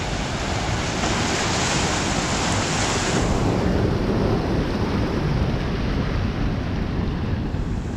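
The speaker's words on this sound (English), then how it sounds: "look at these awesome waves" Loud ocean waves break and surge continuously near the shore by the sea caves at Glentana, with a steady roar of surf and no voices.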